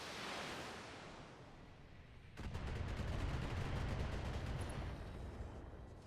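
Weapons fire from mechs in the BattleTech video game: a quiet hiss gives way to a sudden loud, sustained burst of rapid rattling shots and rumble that continues for several seconds.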